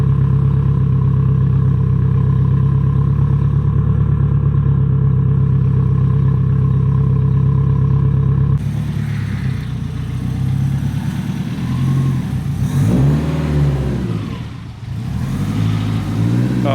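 A car fitted with a Vibrant Titanium exhaust idles with a steady, loud drone for several seconds, then revs repeatedly in rising and falling surges, close by with no talking.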